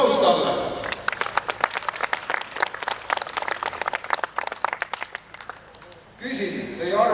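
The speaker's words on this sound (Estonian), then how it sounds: "Aplaus talle!" An audience at an Estonian political gathering on a vote about the ESM treaty breaks into steady applause for a politician. The clapping is loud and sustained, then fades as voices return.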